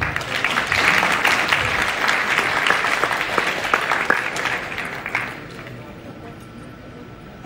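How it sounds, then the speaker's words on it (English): A crowd claps loudly and steadily for several seconds, then the applause thins out and fades into near quiet. "I want big clap for all the mothers in the world"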